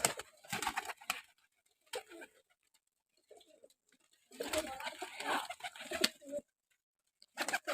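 Teddy and Rampuri pigeons at a home loft coo in short, intermittent bursts, with rustling and possible voices between quieter gaps.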